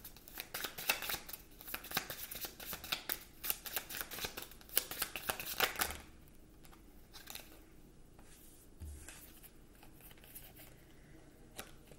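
Tarot cards shuffled by hand in a dense run of crisp riffling and slapping for about six seconds, then quieter shifting and a couple of soft thumps, with no speech.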